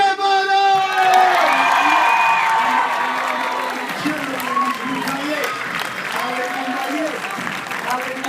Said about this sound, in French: merci tout de suite d'applaudir très très fort Kevin